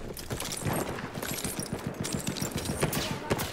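Support-class weapons fire in the video game Battlefield 1, giving rapid automatic bursts of close gunshots in a quick, steady rhythm over a busy background of game noise, with no speech.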